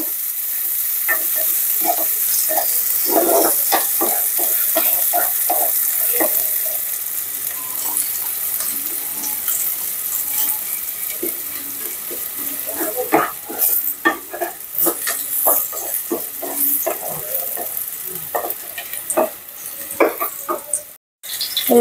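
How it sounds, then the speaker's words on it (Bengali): Chopped onions sizzle and fry in a pan for potato chops, a continuous hiss of frying punctuated by scraping and stirring clatter from a utensil, close and fairly loud, with no talk. "আলুর চপের জন্য শুকনো মরিচ ভেজে নিলাম, এখন পেঁয়াজ ভেজে নিচ্ছি।"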